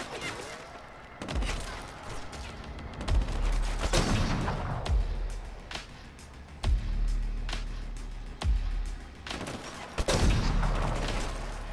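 Repeated gunshots and bursts of gunfire ring out in Killzone Shadow Fall, close and loud, with sharp reports arriving every second or two over a steady background of game ambience.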